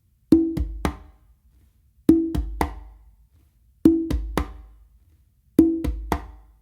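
Conga drum pattern of an open tone, a bass stroke with one hand and a close slap with the other, repeated four times as crisp, evenly spaced three-hit groups with short pauses, alone and close.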